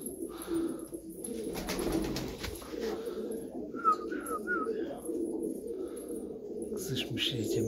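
Tumbler pigeons in their coop make soft repeated coos against a low murmuring background, with a brief burst of calls near the middle.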